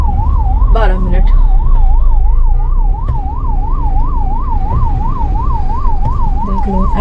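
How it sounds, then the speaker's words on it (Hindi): Wailing ambulance siren stuck in a highway traffic jam between Bengaluru and Hyderabad, a loud, close, rapidly oscillating two-tone warble repeating steadily over rumbling engine and road noise. "देख लो, एम्बुलेंस भी इसी जाम में फंसी हुई, कैसे निकलेगी।"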